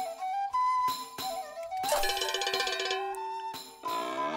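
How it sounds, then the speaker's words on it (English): A cowbell rings in the video game South Park: The Stick of Truth, with bright metallic clanks and ringing tones that strike and fade several times against a background of game music and effects. "Can I ring the bell?"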